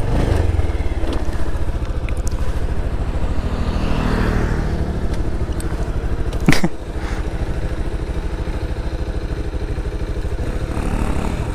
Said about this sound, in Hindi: ये वाला भाई अभी बर्न आउट करेगा बोल रहे हैं